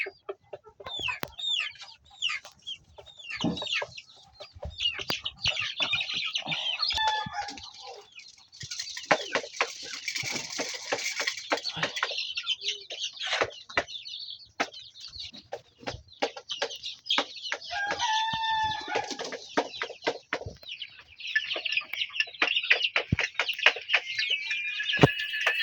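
Village chickens cluck and chatter steadily while pecking at feed mixed with water, with many sharp pecking taps and occasional louder squawks, close by and continuous over a long stretch.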